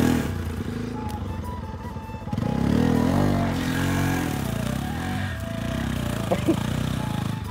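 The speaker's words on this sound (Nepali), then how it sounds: "बुलेट राख्दा हेर्नु बाइक कस्तो फोर भइरहेको छ क्या" A Royal Enfield Bullet motorcycle thumps along a rough, muddy, landslide-damaged mountain road, its loud close engine note rising as it works harder, with jolts and clatter from the bumpy surface.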